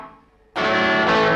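Distorted electric guitar played through a Boss DD-3 digital delay pedal set to a very short delay, so repeats smear into a reverb-like wash; a quiet tail gives way to a loud sustained chord.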